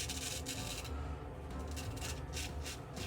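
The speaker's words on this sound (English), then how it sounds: "you can hear how it sings going across the" Straight razor with a full hollow blade scraping across whiskers during a wet shave. It makes a close, quiet, rhythmic rasping of repeated short strokes.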